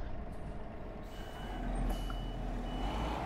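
Truck in Euro Truck Simulator 2 reversing with its warning beeper, a faint steady beep pattern over a low idling engine rumble that rises slightly partway through.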